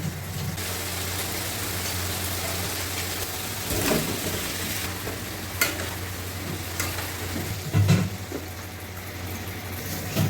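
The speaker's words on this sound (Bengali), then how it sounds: "আলুগুলো ভাজা হয়ে গেছে আর এখানে মশলাটা কষা হচ্ছে" Ginger, coriander, cumin and tomato masala cooks down in a pan for a vegetarian potato and pea dish, producing a steady low sizzle with intermittent stirring scrapes and spoon knocks.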